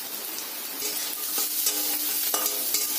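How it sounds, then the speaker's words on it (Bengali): Chopped onion and garlic cloves frying in mustard oil, a lively close sizzle broken by scraping and tapping as the pieces are stirred around the pan, with no one speaking. "পেঁয়াজটাকে ভালো করে ভাজা ভাজা করে নিতে হবে"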